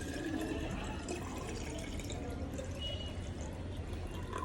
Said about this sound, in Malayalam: ഇനി അമ്മ ഈ ബോട്ടിലേക്ക് വെള്ളം ഒഴിക്കാൻ പോവാണ്.